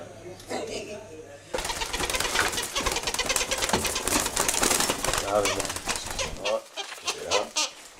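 A dove or pigeon during a stage magic act coos and flutters its wings amid steady background stage noise and applause-like clatter, while people talk over it.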